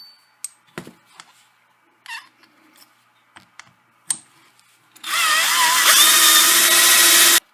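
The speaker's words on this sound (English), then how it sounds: "I'll go ahead and drill the second hole." Scattered small clicks and taps, then a steady whirring hand drill bores continuously for a couple of seconds, loud and close.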